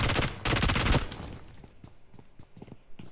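Heavy bursts of rapid video game gunfire dominate the first second, then thin out into scattered, quieter single shots and distant pops.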